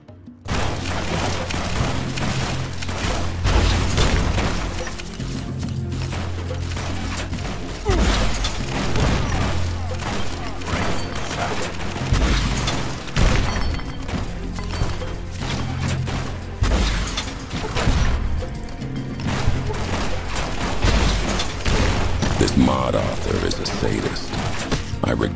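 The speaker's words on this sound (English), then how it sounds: "These guys take 50 shots from Annabelle." Continuous gunfire and explosions from the video game Fallout New Vegas in a Mojave battle, heavy booms and rapid shots throughout, with a voice talking over the combat.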